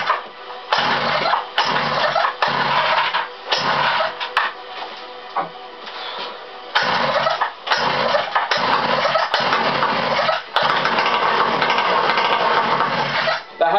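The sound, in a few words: motorized bike engine cold start attempt with choke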